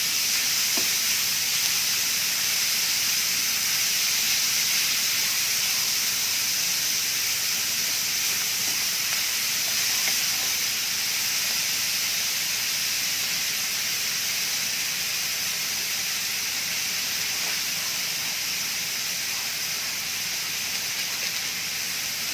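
A medium chopped onion sautés in a pan at home, giving a steady, even sizzle and hiss that runs unbroken from start to finish with no talking.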